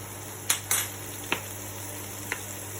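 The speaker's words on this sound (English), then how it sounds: "before I add my vegetables, I'll be adding a teaspoon of garlic paste" Garlic paste frying in a pan with a steady soft sizzle, punctuated by a few sharp clicks of a utensil scraping and stirring against the metal, no voices.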